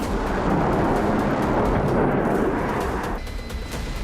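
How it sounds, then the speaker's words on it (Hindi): A loud explosion from a B-1 bomber strike on Iranian targets, a sustained roaring boom that fills the whole clip and eases slightly near the end, with no voices. "फिर अगले ही पल जोरदार धमाका।"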